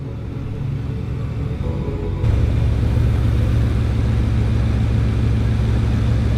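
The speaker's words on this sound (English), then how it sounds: "The gearbox pump is just stuck on. Still pumping now." A steady, loud mechanical rumble and whir from a stuck-on gearbox pump in a Bugatti Veyron, which steps up sharply in level partway through, then holds a continuous droning hum with no talking.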